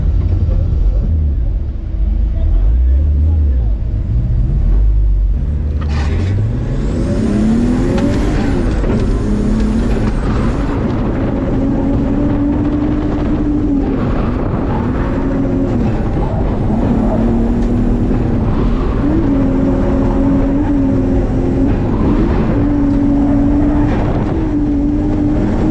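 A Nissan 300ZX Z32 is driven hard through a lap. Its loud, steady engine note climbs and falls through gear changes, with whining tones rising over a constant roar of road and wind noise.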